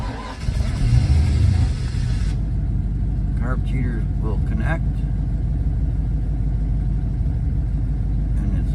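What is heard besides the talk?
1967 Ford Falcon 302 V8 engine starting and idling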